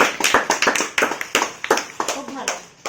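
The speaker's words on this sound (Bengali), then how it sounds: "সবাই জোরে হাততালি দাও ওদের জন্য।" Schoolchildren clap for classmates at a village school gathering, a dense burst of uneven hand claps and taps running throughout, with children's voices mixed in.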